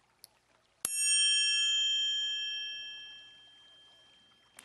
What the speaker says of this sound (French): Quand je frappe le triangle, le son est très fort. Et puis il continue de résonner, mais de plus en plus doucement